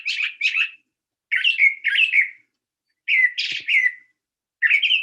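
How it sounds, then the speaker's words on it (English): A mockingbird sings in the Northeast, loud, clear phrases of rising and falling whistled notes, delivered in short paired bursts separated by brief silences. "I love listening to mockingbirds because they are so endlessly inventive."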